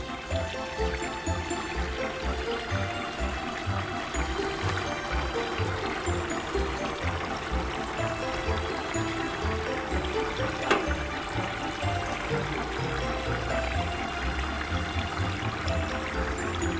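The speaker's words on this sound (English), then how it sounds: "Simply add water to the water tub at the indicated level." Water pouring into the water tub of a Gemini Taurus 3 ring saw, a steady continuous trickling and splashing stream that stays even and moderately quiet throughout.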